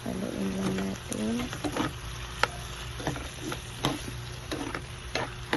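Pork with liver stirring and simmering in a pan, a steady soft sizzle with scraping spoon strokes and clinks close by.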